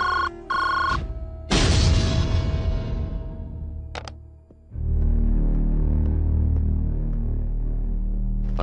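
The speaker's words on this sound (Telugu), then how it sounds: "పద్మ, ఫోన్ చేసావా?" A telephone rings in a loud, bright electronic burst that cuts off, followed by a sharp click and then a dense, steady rumble.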